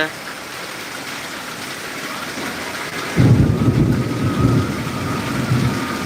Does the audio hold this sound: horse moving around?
no